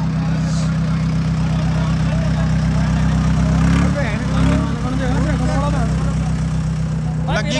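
An Eicher tractor engine runs in a steady low idle throughout, loud and close, with people talking over it.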